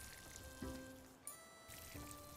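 Watering fertilized crop squares in the cozy farming video game Sugardew Island, heard as soft, short trickling water splashes with light chime-like game tones, quiet and without talk.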